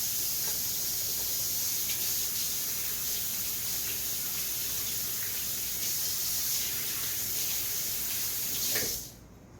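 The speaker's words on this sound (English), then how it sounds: "I'm gonna wash my hands before I touch anything." Tap water runs steadily while hands are washed under it, a continuous close hiss and splash that holds evenly and then cuts off abruptly near the end.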